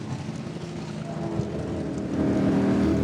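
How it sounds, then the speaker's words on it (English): Racing cars move off at the Goodwood Festival of Speed, their engines a steady low rumble that grows louder toward the end of the stretch. "I can see cars starting to move off"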